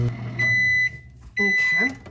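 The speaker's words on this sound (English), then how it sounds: "we're going to put these in the microwave" A kitchen microwave oven runs on a 30-second setting while heating candy-mold ingredients. A loud, steady electric hum carries a tonal whine, and the sound cuts out briefly in the middle before resuming.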